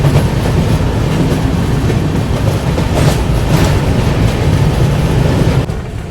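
A train rumbles steadily across a railway bridge with a loud, continuous roar and faint rhythmic wheel clatter, easing slightly at the very end.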